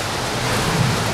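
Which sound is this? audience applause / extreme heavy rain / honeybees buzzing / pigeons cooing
extreme heavy rain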